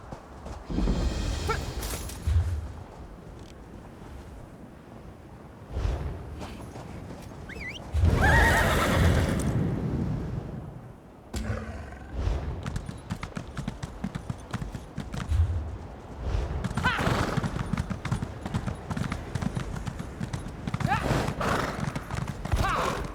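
Horses whinny loudly and hooves clip-clop steadily in the video game The Elder Scrolls Online: High Isle, mixed with voices and busy background activity throughout.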